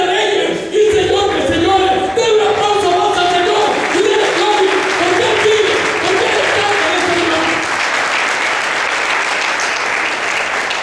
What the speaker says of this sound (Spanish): Den un aplauso más al Señor y denle gloria